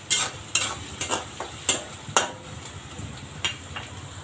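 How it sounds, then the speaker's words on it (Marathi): Onion and tomato sautéing in a pan for a Maharashtrian pithla, with a spoon scraping and stirring in sharp repeated strokes over a steady close sizzle, and no voices. "कांदा टोमॅटो परतून घेऊ आपण."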